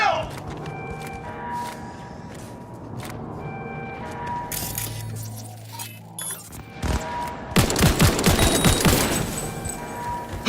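Gunfire in the Cyberpunk 2077 video game: bursts of shots and rattling automatic fire mixed with clanks and movement, building to a dense loud fusillade near the end.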